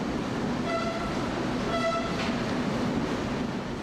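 Rumbling train travelling through the Alps toward Italy at night, steady loud rolling noise with two short horn toots early on.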